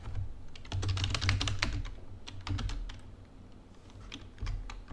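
Fast typing on a computer keyboard, clusters of close, crisp key clicks in uneven bursts with short pauses between words, no voices.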